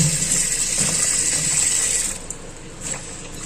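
Pieces of okra being rinsed by hand in a basin of water: soft splashing and sloshing up close, fading to quieter trickles toward the end, with no talking.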